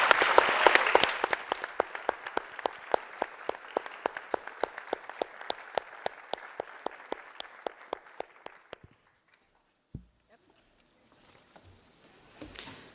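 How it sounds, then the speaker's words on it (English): Audience applause thanking a panel at a free-press forum, a dense burst of clapping that thins into scattered individual claps over about nine seconds before the room falls quiet with faint stray noises. "Let's just give them one more round of applause."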